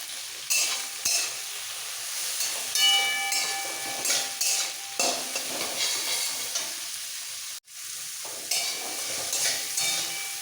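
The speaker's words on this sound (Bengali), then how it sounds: "পেঁয়াজের সাথে টমেটোটা একটু মিক্স করে দিয়ে দেবো" Onion and tomato frying and being stirred in a pan for a Bengali lote fish bhuna curry, a steady close sizzle with repeated scraping stirs and light clinks of utensil on metal throughout, no talk.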